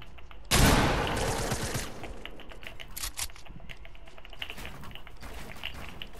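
A loud burst of rapid gunfire erupts, followed by scattered shots and clicking over a busy background, like gameplay sound effects.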